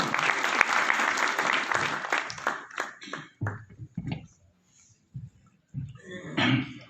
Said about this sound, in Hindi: रिस्पेक्टेड डॉक्टर बालिक अली साहब, आपकी भरपूर तालियों में।